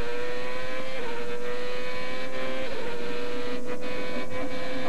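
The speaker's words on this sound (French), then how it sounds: "on roule avec Patrick Carpentier et on s'en va vers le virage en épingle" An Indy race car laps during 2002 Molson Indy qualifying, a loud, continuous high-revving engine whine with shifting pitch and brief dips as gears change, heard close and onboard.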